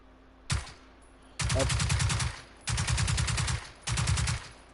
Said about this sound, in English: you can also change the weapon's fire ability. In this case, this experimental K-Pist SMG.